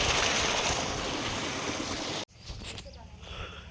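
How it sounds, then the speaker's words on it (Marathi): Hot spring water at Unhavare near Dapoli pours heavily into a pool, a loud, continuous rushing splash that cuts off abruptly, followed by quieter ambience with a voice talking. "नुसतं गरम पाणी पडतंय,"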